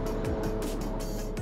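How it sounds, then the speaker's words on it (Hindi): A Suzuki Hayabusa motorcycle bounces off its third-gear rev limiter, the engine drone stuttering in quick repeated cuts under steady wind rush. "ये था इसका थर्ड गियर का लिमिटर"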